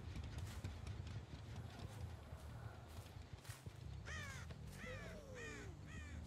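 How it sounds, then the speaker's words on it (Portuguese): A crow caws in the game Dead by Daylight, four clear, evenly spaced caws near the end over a busy, rumbling game background. "Tem corvo na pedra."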